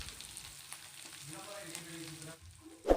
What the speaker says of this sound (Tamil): இது வந்து நான் லைட்டாக ஷாலோ ஃப்ரை மாதிரி தான் பண்ணுறேன்